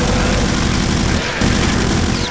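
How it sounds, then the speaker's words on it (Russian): Enemies in Brutal DOOM firing at one another make dense, continuous gunfire: a loud, unbroken barrage of rapid shots that dips only briefly before resuming at full strength. "Вот дебилы по себе стреляют."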